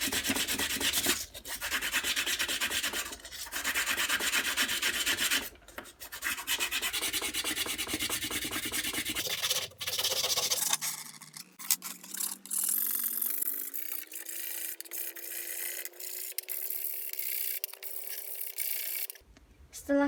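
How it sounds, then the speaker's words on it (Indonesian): Six iron nails rubbed with sandpaper, a dry, raspy scraping in repeated strokes, close and fairly quiet, with a brief rising tonal sweep near the end. "kita akan mengamplas 6 buah paku terlebih dahulu."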